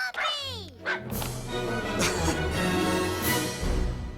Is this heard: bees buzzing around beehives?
no